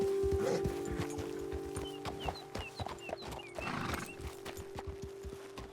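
Horses in Red Dead Redemption 2 clip-clop at a steady trot on hard ground, hooves beating rhythmically close by, with a brief whinny and a low droning hum underneath.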